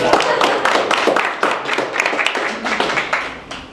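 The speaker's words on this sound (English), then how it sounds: "Let's all give Andrew just a quick round of applause." A live audience at a SQL performance tuning talk gives a short round of applause, a steady patter of many hands clapping up close that lasts a few seconds.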